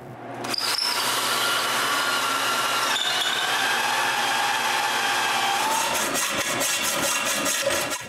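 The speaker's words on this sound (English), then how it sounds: "I remove the guide and drill even deeper." Electric drill boring deeper into a wooden bandsaw part, a steady loud whine running almost continuously close by and winding down at the end.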